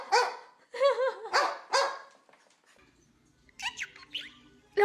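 A pet parrot imitates a dog, giving a quick series of four barks, then a short quiet pause and a few higher yips and whimper-like calls, close and loud with no speech over them.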